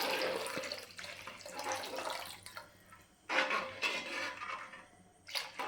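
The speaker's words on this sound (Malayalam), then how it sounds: "ചൂടുവെള്ളം എടുക്കുകയാണ്. ചൂടുവെള്ളമാണ് കേട്ടോ." Hot water is poured into a pot of home-cooked fish curry in a kitchen, a steady splashing pour that rises and falls in bursts over several seconds, with a brief pause midway before the flow resumes.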